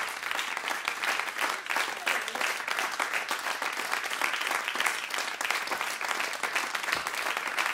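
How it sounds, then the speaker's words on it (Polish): An audience at a jazz concert gives sustained, dense applause that holds steady for several seconds with no break, filling the room at an even level. "Wielkie brawa!"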